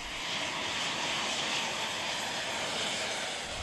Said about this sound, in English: Each flyboard is equipped with four 250-horsepower turbo engines, fueled by kerosene carried in a tank strapped to the rider's back.